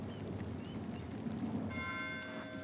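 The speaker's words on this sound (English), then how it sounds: "Why is Matteo ringing the bell?" A church bell rings in the video game Pentiment, with faint sustained metallic tones emerging over a steady, noisy ambient background in the second half.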